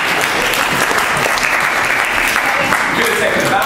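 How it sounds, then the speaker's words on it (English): A live science show audience gives a dense burst of steady applause, loud and close, filling the short moment with continuous clapping. "Do you want a round of applause?"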